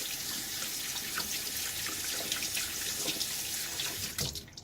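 Tap water running steadily into a sink while rinsing after a shave with a Gillette razor, a continuous close splashing hiss with some drips, fading out abruptly at the end.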